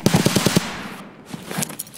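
Gunfire in the Dorms video game opens with a rapid burst of about six sharp shots in quick rhythm, then fades to quieter background noise.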